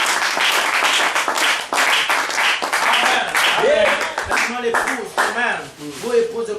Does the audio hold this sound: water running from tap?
no